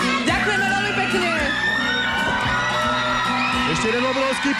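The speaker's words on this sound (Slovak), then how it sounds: "Ešte jeden obrovský potlesk." A live crowd yells, whoops and cheers loudly and steadily for a performer named Onur, with voices shouting over one another throughout.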